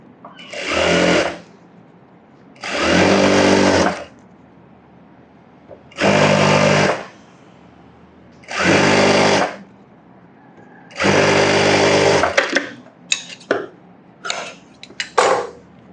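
A sewing machine runs five even bursts of a second or two each, stitching an edge seam on a blouse supply piece, close and loud, followed by a few light clicks and handling taps.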